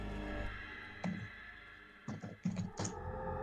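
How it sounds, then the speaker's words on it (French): Someone types hard on a computer keyboard during a tabletop role-playing session, a few scattered heavy keystrokes and thumps over steady background hiss, fairly faint. "Ne casse pas ton clavier, Yvan, quand tu tapes"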